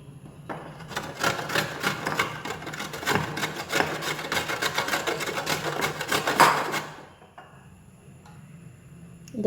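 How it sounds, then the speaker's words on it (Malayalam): Carrots being grated for carrot halwa, a steady run of rapid scraping strokes against a metal grater, close and fairly loud, stopping about two-thirds through and followed by quiet. "ഇനി നമുക്കിത് ഗ്രേറ്റ് ചെയ്തെടുക്കണം."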